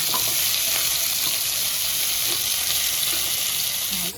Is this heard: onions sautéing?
yes